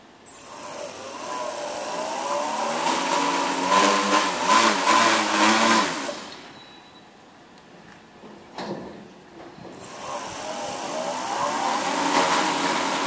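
Smartdrones SD-M550G 4408 brushless motors driven by WII ESCs on a 4s LiPo spin with a loud, steady whine that rises and wavers. They drop away to near silence in the middle, then spin back up to a sustained high hum.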